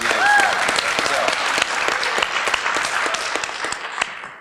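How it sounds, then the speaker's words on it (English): An audience at an afternoon leadership exchange session applauds, a dense, loud round of clapping that tapers off over a few seconds. "we owe Brian a wonderful round of applause for the work he's done today"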